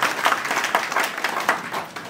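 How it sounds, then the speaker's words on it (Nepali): An audience claps in honour at a gathering at Kaudinya Rishi Ashram, Devghat, a moderate burst of rhythmic, uneven hand claps that continues steadily through the moment. "करतल ध्वनिका साथ ताली बजाइदिनु"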